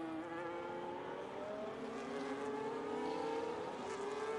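Formula-style race cars, a Red Bull and a Ferrari, lapping the Singapore circuit in a racing video game, their engines blending into a continuous high whine as several cars drone along together at a steady, moderate volume.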